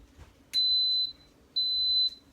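Two loud, steady electronic beeps from an Instant Pot after its manual timer is set to 8 minutes, each held about half a second with a short pause between, alone over quiet kitchen room noise.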